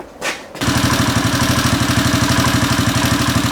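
A Royal Enfield Himalayan motorcycle engine catches and settles into a steady, rhythmic idle, loud and close, after a brief starter burst; its exhaust is loose.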